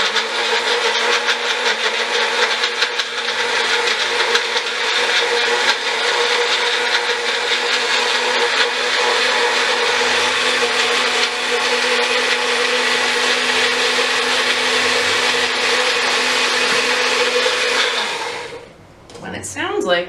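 A small Magic Bullet blender whirs loudly and steadily for about eighteen seconds, then winds down and stops, followed by a brief clatter.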